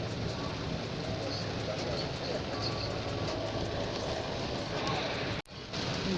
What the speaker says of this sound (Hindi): गाड़ी में शोर देखे, छत के ऊपर पानी गिर रहा है ना बारिश का, उसकी वजह से इतना शोर हो रहा है।